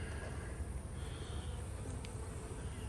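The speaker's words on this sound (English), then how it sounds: "there's a lot of bees in there" A dense, steady hum of many bees inside a beehive in an apiary, a continuous close drone at low volume with no voices.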